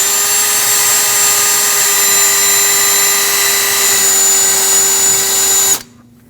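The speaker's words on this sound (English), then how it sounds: "Use some sandpaper or a wire wheel on a drill, whatever you have, to clean up this area" Wire wheel spinning on a drill to clean the lower control arm of a Nissan Frontier 2WD, a steady high whir running loud for several seconds before cutting off abruptly.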